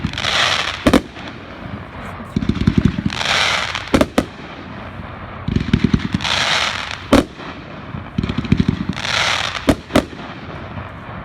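A consumer firework cake called "Game On" set off outdoors, launching repeated bursts of loud sharp cracks and sizzling crackle in several waves over about eleven seconds, fairly near, with no talk.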